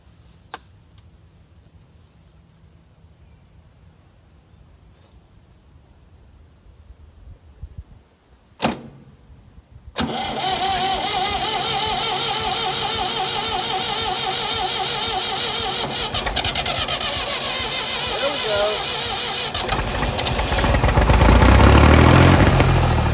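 An abandoned Massey Ferguson 2200 tractor forklift engine cranks briefly, then catches on gasoline and runs loud and rough at high throttle, revving up further toward the end, with a short whir and ticks before it fires.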